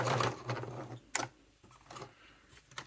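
A home sewing machine stitching a bag strap for a satchel, its needle thumping in short repeated bursts with brief pauses between runs, close and fairly loud.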